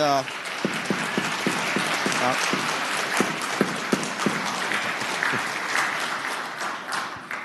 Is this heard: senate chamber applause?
yes